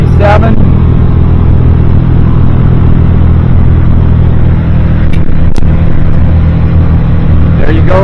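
A boat cruising at around 30 mph on a single Yamaha F150 outboard, one of twin motors on a 2005 Seasport, gives a steady droning engine hum beneath wind and water rush, with a brief voice near the start and end.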